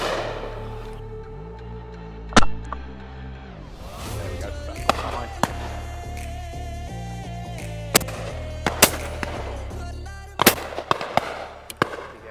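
Shotguns firing at a British driven pheasant shoot in the Cotswolds, a series of sharp, loud reports spaced irregularly over a steady low outdoor rumble, some shots in quick pairs, with little talk.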